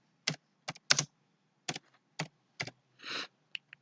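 A name typed on a computer keyboard: a short, uneven run of crisp key clicks with small pauses and one longer clack near the end, close and isolated in a quiet room.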